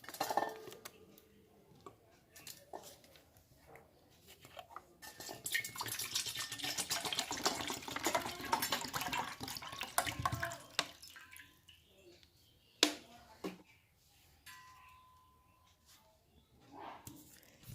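Half a litre of water poured into a container at home, a steady splashing rush that builds in the middle and fades, followed by scattered drips and clinks, faint and close in a quiet room.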